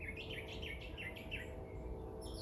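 Birds chirp outdoors on a cloudy, rainy day, a run of short bright calls repeating quickly at moderate distance over a steady background hum.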